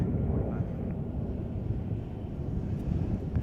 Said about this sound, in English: 806 has landed here after an almost 14-hour journey from Hong Kong on an Airbus A350-1000.